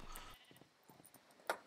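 Sheep bleating in a video game, a few faint, thin bleats spread out over a quiet background, ending with one sharper, louder cry.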